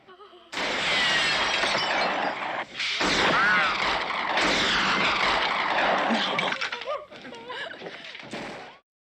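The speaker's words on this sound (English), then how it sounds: "The Uzi is an effective weapon used close to the body, with both hands, fired from the hip or using the sights." Uzi submachine gun fire in a movie action scene comes as dense, loud bursts that mix with shattering and crashing effects. Several sustained volleys follow one another with brief gaps between them.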